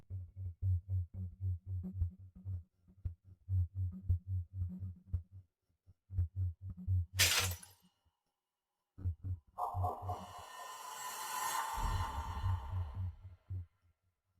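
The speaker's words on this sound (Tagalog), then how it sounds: "Basag na ang jade." A jade piece shatters with one sharp, bright crack midway through a tense dramatic scene, set against low, pulsing heartbeat-like thumps that stop and then resume.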